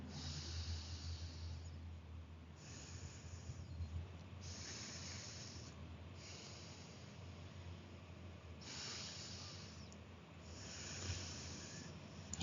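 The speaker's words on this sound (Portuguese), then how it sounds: "expira pela esquerda, inspira. E fazemos assim alternadamente." Alternate nostril breathing exercise, slow rhythmic nasal inhales and exhales alternating sides, soft airy hisses repeating every couple of seconds over a quiet low hum, close and faint, no talk.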